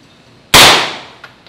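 A single MP5 submachine gun shot sounds in a Modern Warfare video game, one sharp close crack with a short decaying tail and a faint tick after it.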